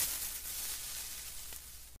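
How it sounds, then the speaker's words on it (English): The creeper from the Minecraft video game gives its steady, breathy fuse hiss, moderately loud and unbroken for about two seconds before it cuts off sharply. "Let's import the creeper sound"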